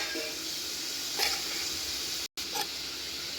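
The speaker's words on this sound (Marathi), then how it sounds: "1 ते 2 मिनिट आपण याला परतू." Paneer cubes and green peas sauté in a pan with a soft, continuous sizzle and occasional stirring scrapes, heard close and alone, with one brief dropout to silence.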